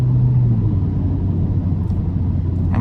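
An Alfa Romeo Giulia with a muffler modification accelerating hard off launch control at night, a loud, steady low engine roar and rumble heard from inside the car, continuous throughout.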